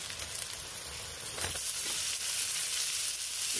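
Constant hissing sizzle of rice frying in a pan, with a brief thump and rustle as boiled banana flower is dropped in and the sizzling swells.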